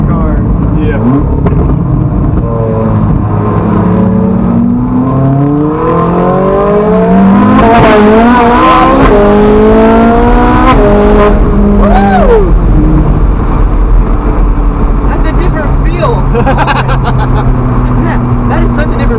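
Low, wide cars accelerate hard and rev, engine pitch sweeping up repeatedly in loud, close pulls with a peak burst in the middle, and voices talking throughout.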